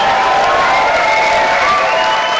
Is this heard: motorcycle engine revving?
no